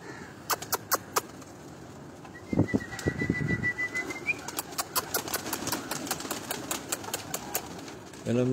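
Breeder pigeons on a Lahore rooftop, with sharp wing claps and a flurry of flapping up close, then a run of rapid flapping bursts over a quiet background hum.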